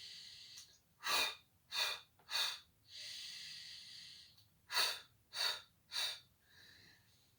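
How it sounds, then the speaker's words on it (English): Loud, sharp exhaled breaths during a Pilates class come in quick bursts of two or three, close to the microphone, with a longer steady breath between the groups and no talk over them. "I'm breathing loudly in lieu of actually saying blow or exhale"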